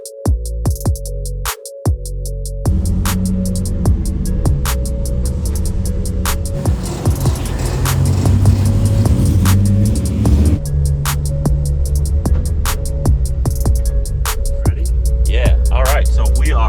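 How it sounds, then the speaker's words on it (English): A lifted, supercharged LT4-swapped 1984 Chevy K10 squarebody with a newly fabricated exhaust rumbles with a deep, loud engine drone that rises and falls as it drives, with crackles and clicks over the steady low growl. "now that we got the exhaust on this thing, we can bring it out, give it the very first test drive"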